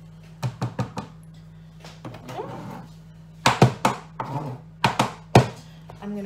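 A pepper tapped against a tray in a home kitchen to knock out the leftover seeds, a series of sharp close knocks in small irregular clusters with brief rustles between them and no talk.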